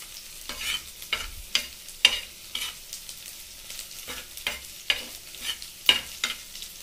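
Gram flour (besan) roasting dry in a pan, stirred with rhythmic scraping strokes about twice a second over a faint sizzle, close and with no voices.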